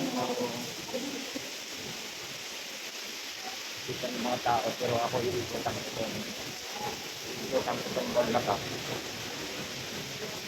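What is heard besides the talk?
heavy rain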